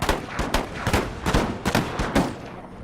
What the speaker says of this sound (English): On the puckle guns, I think that's what is shooting.